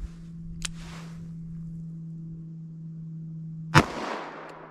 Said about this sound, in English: Let's run those same rounds here through our revolver.